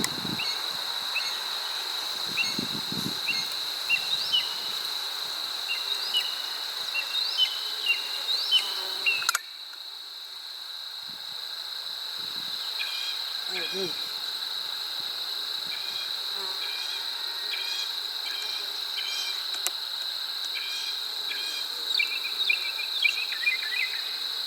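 Honey bees in a crowded hive give a constant close buzzing hum, with faint chirps and soft rustles mixed in.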